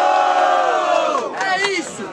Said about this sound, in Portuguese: Muito barulho pra quem gostou das rimas do Japa